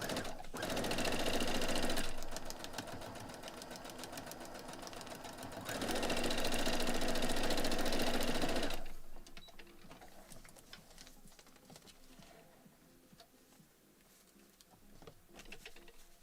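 Sewing machine stitching a foundation paper-pieced pine tree quilt block: two long, steady whirring runs of rapid needle strokes, then quieter handling and rustling sounds.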